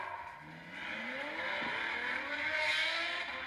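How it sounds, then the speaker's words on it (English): A Mercedes-Benz C63 AMG engine revs with a steady, loud, raspy roar that swells slightly toward the end, with no voices over it. "Benz 63 AMG C63."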